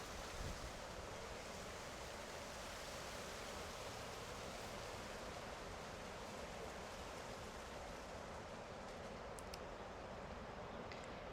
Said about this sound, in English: Enjoying the sounds of the wind.